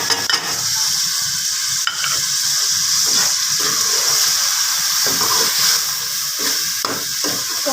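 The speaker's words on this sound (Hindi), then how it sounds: "इसको हमने तकरीबन 5 मिनट भूनना है ताकि इसका घी निकल आए।" Masala spices fry in hot ghee for aloo gobi, a loud, continuous close sizzle with intermittent scraping of a spoon stirring the pan and no talking.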